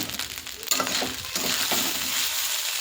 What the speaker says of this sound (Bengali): ভাত ভাজাটা পুরোপুরি হয়ে গেছে